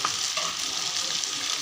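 Ginger and garlic frying in a pan with chili powder and turmeric, stirred over a dense, continuous close sizzle.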